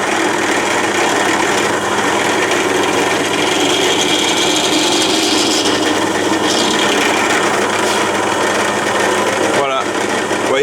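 Drill boring a small chamfered hole in wood while building a food cabinet: a steady, dense whirring and rubbing hum that runs continuously at full level for about ten seconds, with a short break near the end.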